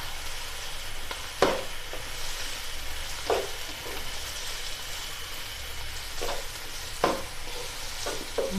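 Strips of chicken and vegetables frying lightly in a pan, a steady close sizzle broken by a few sharp stirring scrapes, no voices.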